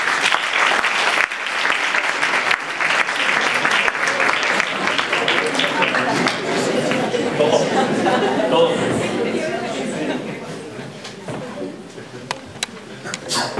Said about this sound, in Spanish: te recibimos con este fuerte aplauso